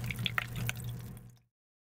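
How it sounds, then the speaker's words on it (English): Water splashes and trickles into an upper storage tank from a 24V/50W BLDC household pump, with a steady low motor hum beneath the dripping before everything cuts to silence. "the water flow from the lower level into the upper storage tank"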